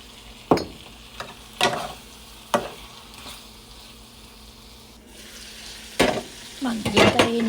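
Beef frying with a splash of soy sauce in a pan, clattering stirs and bursts of sizzle coming in short separate spurts over a low, steady frying hiss, close and moderately loud, with no one talking.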